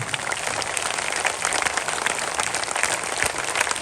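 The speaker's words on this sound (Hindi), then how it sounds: "इतनी जोर से ताली, हाथ उठा करके।" Children at a school annual day clap hard with their hands raised, a thick, steady burst of crowd clapping with some sharper individual claps poking through, moderately loud and continuous.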